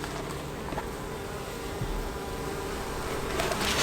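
Honey bees at a hive being fitted with supers, a dense continuous buzzing swarm close by with steady level and a few louder passes, no voices.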